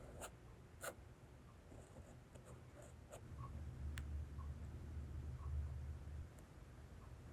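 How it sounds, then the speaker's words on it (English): A fine liner pen scratches and ticks across paper while inking a drawing, with soft close strokes and small sharp clicks over a low, faint background hum. "so it's time to start using the smaller pens"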